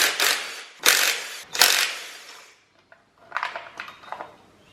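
A 12 mm tool works a tensioner off a 2JZ engine during a strip-down. Three loud, close metallic clatters come first, then a pause and a run of lighter clicks and rattles.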